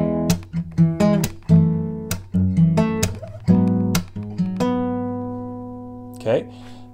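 A guitar strums three chords of a song in a repeating pattern, sharp strokes followed by a long ringing final chord and a brief string slide, close and alone.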